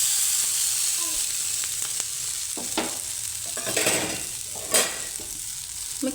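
A spoon stirs a lentil mixture in a pan over a low flame, steady frying sizzle throughout with scraping strokes and a few louder clinks against the pan, close and continuous.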